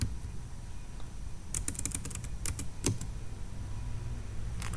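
Someone types the ipconfig command into a command prompt on a computer keyboard, producing a brief cluster of light, close key clicks over a low background hum.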